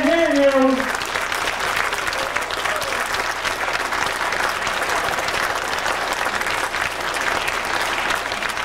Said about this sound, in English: How about a nice round of applause for here?